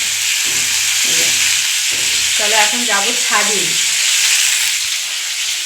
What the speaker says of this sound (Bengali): উপরে এখন মাছ দিয়েছি হাতে তেল ছিটকে নেবে